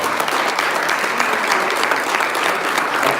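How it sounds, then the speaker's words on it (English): Audience applause fills a forum on employee ownership, a dense, steady wash of many hands clapping at close range for the panelists, sustained evenly without pause. "let's give it a big round of applause for our panelists."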